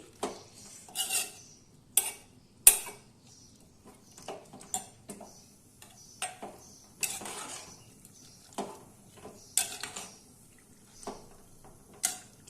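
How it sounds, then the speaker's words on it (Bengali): A spoon stirs masoor lentil dal in a pot on a gas stove, making irregular metallic clinks and scrapes every second or so against a quiet background, with no voices. "এবার গ্যাস অন করে বসিয়ে দিচ্ছি এই ডালটা দিয়ে একবার ভালো করে নাড়িয়ে চাড়িয়ে দিচ্ছি"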